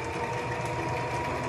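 Sewing machine backstitching fabric for a child's hat, a steady close whirring hum running evenly throughout with no voices.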